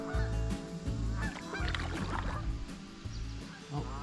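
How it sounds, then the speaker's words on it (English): Geese honk repeatedly along a creek, loud and close, in overlapping bursts while paddling and water sounds sit underneath. "We've got geese."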